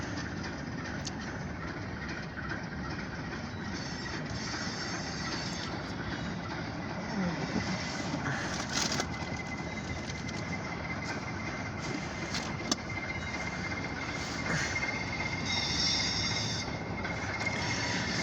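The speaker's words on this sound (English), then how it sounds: "This is a short ethanol train at the freight yard now." A short ethanol tanker freight train passes through a freight yard, a steady, continuous rolling rumble and rail noise at moderate distance.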